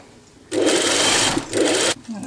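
A sewing machine stitching the sleeves of a blouse-cravat kit, running in two loud, close bursts of rapid whirring with a brief pause between them and a quiet voice at the edges.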